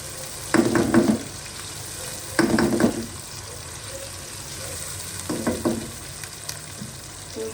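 Tomatoes drop into a pan of onion, garlic and ginger already frying for an aloo gobi curry, with three loud bursts of sizzling and stirring between quieter stretches of low crackle, close up and with no talking.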